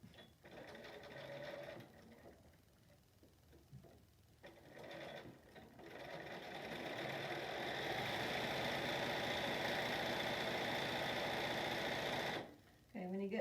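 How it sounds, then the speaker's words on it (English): A sewing machine stitches a fabric face mask in fast bursts, with a short start-stop run first and then a long continuous whirring stretch close up before it stops. "I like to sew fast."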